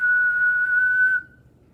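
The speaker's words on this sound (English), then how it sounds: "So the whistle didn't sound that great, and it was a single note" A person whistles one steady, clear note indoors in a physics lecture hall, held for about a second before cutting off, loud and close with no talking over it.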